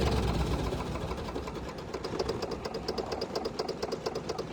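A Dexheimer 222 tractor engine idles slowly and steadily, a low mechanical chug with faint rhythmic ticking, heard close and alone with no talking.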